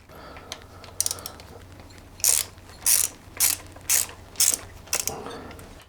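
A ratchet backs out 3/16 hex cap screws from a Harley gearbox cover, with about six evenly spaced bursts of rapid clicking, close and clear.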